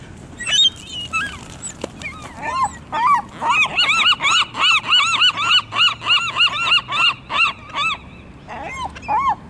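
A flock of seagulls being fed calls nearby in loud, rapid, repeated squawking cries, building into a rhythmic run of about twenty calls with no talk over them.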